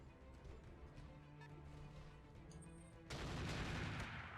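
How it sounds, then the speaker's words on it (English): Enemy gunfire in the MechWarrior game, a steady low rumble of distant shots that bursts into a loud, dense barrage of impacts partway through, with no talk. "they're still shooting"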